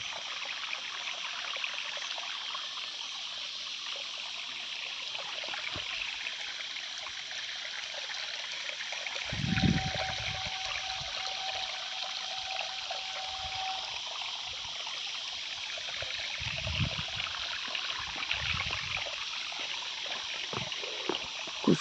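A waterfall stream runs over rocks on a Jharkhand hillside in summer, making a soft, steady, distant trickle with a few low knocks partway through.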